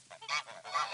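A flock of geese honks in quick, rising calls during a morning training session, three or four nasal bursts close by and fairly loud, with no talk over them.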